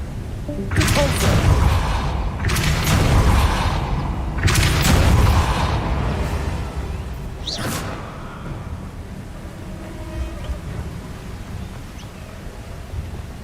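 In the Hogwarts Legacy video game, an Incendio fire spell is cast as a series of heavy booming bursts, three or four loud blasts with whooshing tails that fade into a low rumbling ambience.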